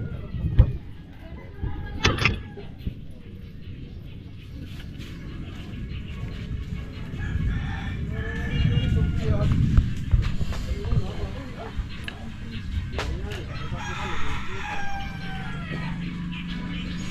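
Chickens clucking and a rooster crowing near a person who talks throughout, with sharp bird calls at the start and scattered clucks, thumps and movement under the speech.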